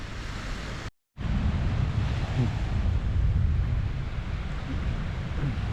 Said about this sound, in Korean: 바닷물이 이제 들어오기 시작하는 것 같은데